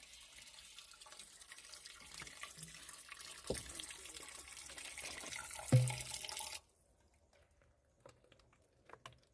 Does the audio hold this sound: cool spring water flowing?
yes